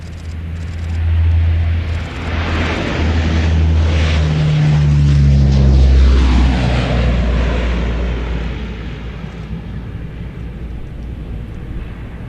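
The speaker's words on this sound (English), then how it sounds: "Certainly hope you've got your speakers turned up for the sound on these beautiful aircraft." A P-3 Orion turboprop takes off at a Royal International Air Tattoo display, its loud droning engines and propeller roar swelling as it passes close, then fading gradually into the distance.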